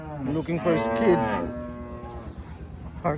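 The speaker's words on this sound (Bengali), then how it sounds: "গাই গরু হাটে ডাকতেছে, লুকিং ফর হিজ কিডস," A cow at a cattle market gives a loud, drawn-out moo lasting more than a second, followed by a quieter, shorter call. Crowd murmur and market noise continue underneath.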